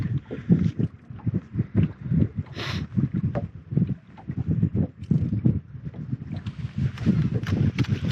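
Wind gusting across open lake water around a bass fishing boat during a tournament, buffeting the microphone in rough, continuous rumbling bursts, loud and close, with a brief higher rushing swell partway through.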